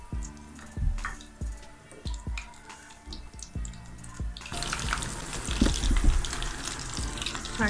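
Fish sizzles in oil over a low flame, a soft crackling hiss with intermittent pops that swells and grows louder partway through, close and continuous with no speech.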